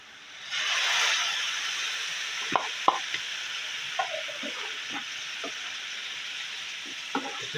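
Tomato paste masala sizzles in a pan while a spoon stirs it, sounding as scattered scrapes and taps over a low, even frying hiss that rises after the paste goes in. No voices.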